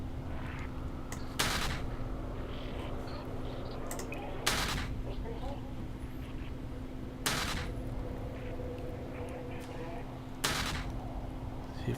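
Ship guns fire in the Eve Online space game: four short, evenly spaced blasts about three seconds apart, each cutting sharply through a steady low engine hum.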